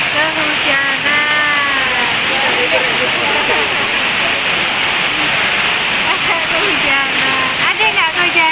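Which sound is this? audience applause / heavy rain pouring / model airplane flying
heavy rain pouring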